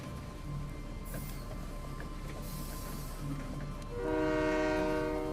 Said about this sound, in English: you can hear the rail cars too, with the wheels screeching